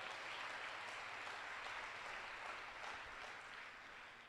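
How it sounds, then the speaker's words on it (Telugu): A church congregation clapping during a sermon, a sustained burst of applause from many hands heard at a moderate distance, fading slightly toward the end. "కొట్టు చప్పట్లు ఒకసారి"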